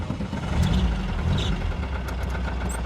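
A rough, low engine rumble from a 1962 VW Beetle idles and swells slightly, with a heavy diesel-truck character, steady and close throughout.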